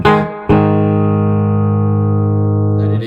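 Peavey T-60 electric guitar with the tone knob turned so both pickup coils engage, a single sustained ringing chord struck after a short note, rich and close, fading near the end.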